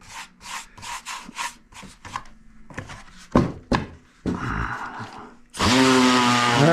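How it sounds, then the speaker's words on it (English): A fiberglass radiator shroud is sanded with a series of short rasping strokes and knocks, building to a loud, continuous power-sanding roar at the end. "I can come in, sand it down"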